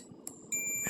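A multimeter on continuity test, used while servicing a soldering iron, gives a steady high-pitched electronic beep that starts partway through after a brief click and holds to the end.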